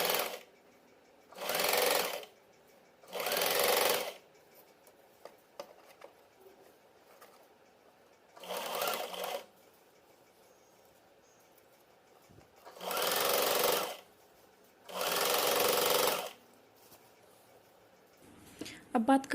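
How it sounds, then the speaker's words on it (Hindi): A sewing machine stitches a kurti sleeve in five loud, close bursts of rapid whirring, each a second or so long, with quiet gaps between them. "चलिए सिलाई लगाकर दिखाती हूँ आपको।"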